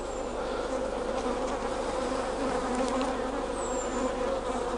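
Honey bees buzz steadily from a Langstroth hive opened for a November inspection, a dense continuous drone that stays close and even throughout, with no talking.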